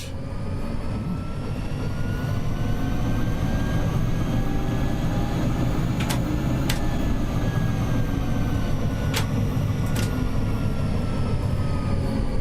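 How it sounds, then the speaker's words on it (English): A tram rolls steadily through a city in City Transport Simulator, a constant low rumble and hum with faint whining tones, broken twice by pairs of short high clicks or rail squeaks, no voices. "This tram does sound nicer than the other one"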